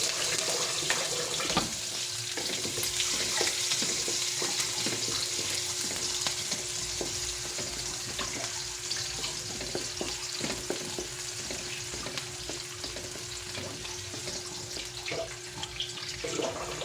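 Onions sautéing for pork adobo sizzle steadily in a pan, with a low hum and occasional stirring clatter of the utensil, close by and with no talking.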